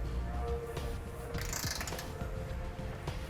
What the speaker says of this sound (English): we're going to torque all of our hardware to the specified amount in the instructions